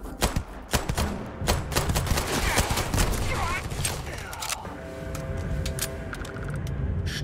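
Rapid, close gunfire cracks in Starfield come in irregular bursts during the first half and thin out afterward, with scattered other game sounds following.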